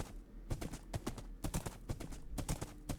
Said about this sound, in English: take my horse and ride off this way for a little bit